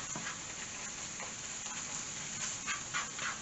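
Onions with garam masala and curry spices cooking in a pan for curried chickpeas with vegetables, a steady soft sizzle with faint stirring scrapes, fairly quiet and alone.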